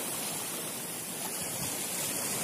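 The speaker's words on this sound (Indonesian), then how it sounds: "Terkendala sama ombak ini." Ocean surf at a coastal fishing spot near a swallow-nest cave on Nusakambangan, at high tide with rough waves: a steady, loud broadband wash of breaking water, with no talk.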